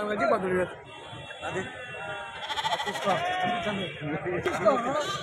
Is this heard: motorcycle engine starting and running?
no